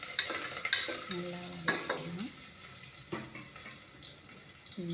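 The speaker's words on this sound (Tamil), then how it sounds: "எண்ணெய் ஊற்றி கடுகு போட்டு வெங்காயம் கடுகு போட்டு நல்லா அடங்கி நல்லா வதக்கலாம்" Onions and mustard seeds sautéing in oil for sambar, with steady sizzling broken by louder scraping stirs and a few sharp clinks near the start, close and moderately loud, no talking.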